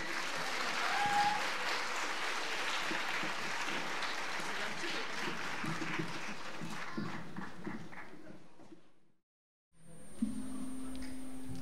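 Audience at a student rock concert applauds in a dense, sustained burst of clapping that gradually tapers off, followed by a brief silence and a faint hum.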